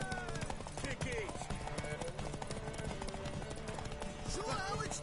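Horse hooves galloping in The Witcher 3 video game, a rapid, continuous clip-clop with rhythmic thuds close up, mixed with game ambience and a voice speaking over it.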